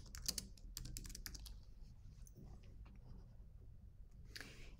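Quick bursts of keystrokes on a computer keyboard while text is typed into a Canva design, close and soft, with clustered clicks at the start and sparser taps afterward, no talking.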